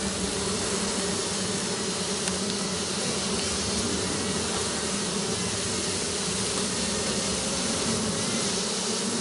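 A dense swarm of honeybees buzzes in a loud, unbroken drone during a bee rescue and hive installation in an unusual spot, with no voices.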